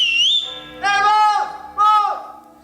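A person whistles a signal in three parts: a high rising note, then two sliding calls that swoop up and down, clear and close against a quiet background.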